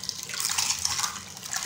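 Potato slices stirred by hand in a bowl of cold water with salt and vinegar, a continuous close sloshing and swishing of water with no talk.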